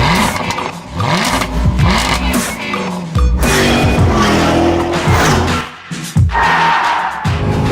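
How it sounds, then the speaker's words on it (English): A sports car engine, a contender for best driver's car in 2016, revs hard on a track, loud and close, pitch sweeping up and down through gear changes with tire squeal and brief lifts between pulls. "This engine just revs and revs and revs."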